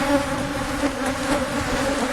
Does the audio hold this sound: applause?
no